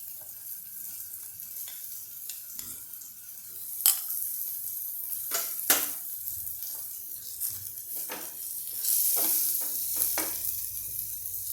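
Cauliflower with turmeric is sautéed in a pan: a steady close sizzle runs throughout, broken by scraping stir strokes and a few sharper clacks.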